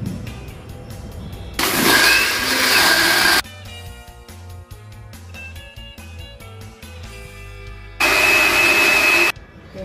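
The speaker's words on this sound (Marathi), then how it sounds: "आता आपण हे ब्लेंडरमध्ये आपल्याला उलट करायचं आहे." A kitchen blender blending mango juice roars loudly in two separate bursts of a couple of seconds each, with quieter clattering and background sounds between them.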